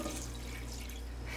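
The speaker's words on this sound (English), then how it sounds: "So here I will add little more water" Tap water running into a pot of eggs being dyed, a close, steady splashing trickle with a faint low hum beneath, brief and without speech.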